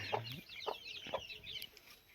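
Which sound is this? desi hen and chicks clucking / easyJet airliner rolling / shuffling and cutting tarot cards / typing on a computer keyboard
desi hen and chicks clucking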